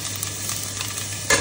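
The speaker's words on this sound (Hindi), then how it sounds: "अब अदरक और लहसुन का पेस्ट देसी घी में जाएगा पूरा" Ginger-garlic paste sizzles and crackles steadily in hot desi ghee while being stirred for dal makhani, a continuous close frying hiss with a louder burst near the end.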